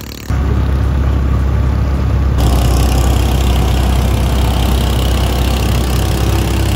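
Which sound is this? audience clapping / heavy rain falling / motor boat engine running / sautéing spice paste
motor boat engine running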